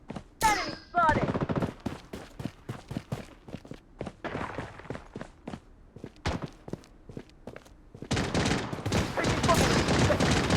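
Rapid bursts of gunfire in the video game Blood Strike, sharp repeated shots mixed with footsteps and brief game voice callouts, growing into a dense, loud barrage near the end.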